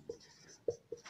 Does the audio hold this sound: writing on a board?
yes